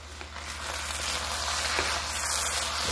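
Ribeye steak beef fried rice sizzles steadily in a pan after a splash of mirin, a constant close frying hiss with faint crackles and no talking.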